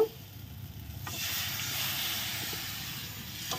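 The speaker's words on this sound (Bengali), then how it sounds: "এখন দুধ আর পনির দিয়ে দেব" Milk and paneer added to a pan of fried spices and peas, a soft clunk followed by a steady, moderately quiet sizzling hiss that swells and carries on alone, with a faint knock near the end.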